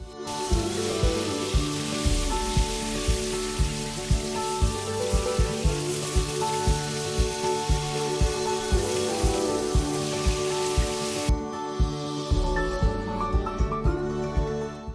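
Fish fries in hot mustard oil in a pan, giving a steady loud sizzle and crackle like rain, with regular soft thumps and a brief dip near the end.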